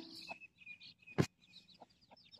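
Chickens and chicks cluck softly and intermittently, with one louder squawk in the middle and chirpy peeping throughout.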